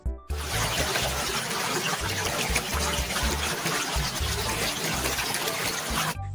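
Rushing river water in a cartoon plays as a loud, steady, full-bodied wash of flowing liquid with a low churning undertone, running continuously from start to finish without voices.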